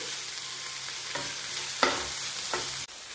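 Salted tomatoes, onions and capsicum softening in a pan for street-style masala pav are stirred over a steady sizzle, with a few distinct scraping strokes and a short knock near the end.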